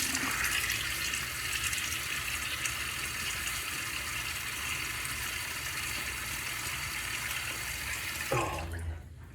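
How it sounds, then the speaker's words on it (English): A bathroom sink tap runs steadily for wetting the face before a shave, a continuous close hiss of flowing water that stops abruptly near the end, with no talking over it. "John, let me get my face wet."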